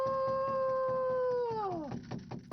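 A shaman imitating wolf howls during a ritual near Lake Baikal, one long sustained howl that holds steady and then slides downward, followed by a few soft knocking sounds.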